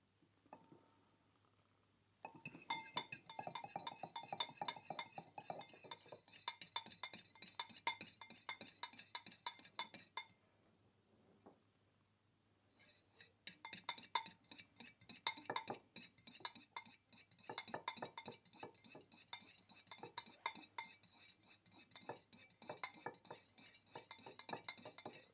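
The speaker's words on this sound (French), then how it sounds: "il faudra fouetter avec la fourchette de façon énergique" A fork whisks steak tartare sauce with sunflower oil in a bowl, giving rapid, energetic metallic clinks and scraping against the dish, in two long bursts separated by a short pause, close and clear with no talk.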